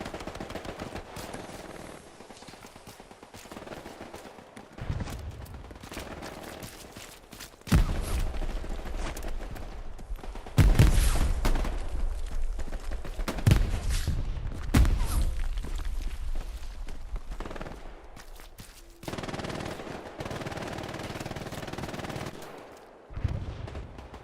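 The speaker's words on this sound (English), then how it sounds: "MG42 fire right ahead of him" Bursts of MG42 machine gun fire from a nearby emplacement in the World War II shooter Hell Let Loose, loud heavy volleys repeating through the scene amid other gunfire, thuds and battlefield noise.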